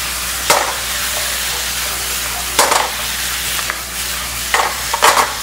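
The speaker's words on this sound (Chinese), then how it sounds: "最后葱绿辣椒下来，快速拌炒一下" Green onion and chili tossed quickly in a hot wok: a low background sizzle broken by several sharp metallic clanks and scrapes of the spatula at irregular intervals, close and loud, no speech.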